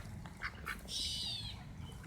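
Ducks being fed give a few quacks, brief and faint, with one longer nasal call in the middle.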